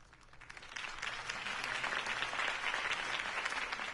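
Applause from a crowd in the video game Batman: The Telltale Series swells from scattered claps into a steady, dense ovation lasting several seconds.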